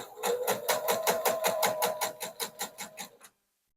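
A sewing machine stitches a diagonal quilt block seam in a rapid, even rhythm of needle strokes, close and clear, slowing slightly before stopping abruptly.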